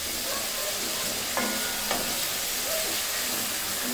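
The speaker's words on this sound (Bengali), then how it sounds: "এটাকে ভালো মতন মিশিয়ে নেড়ে চেড়ে আবারও 4-5 মিনিটের মতন কষিয়ে নেব" Chicken and masala stir-fry in a pan for Bengali reshmi chicken, a continuous loud sizzle and hiss broken by a couple of sharp scrapes of the stirring spoon.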